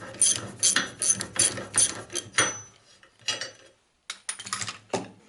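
Ratchet wrench loosening a nut on the front suspension pivot of a Citroën Traction 11, a series of bright mechanical clicking bursts in quick rhythm, close and clear, with a short pause before a final run of clicks.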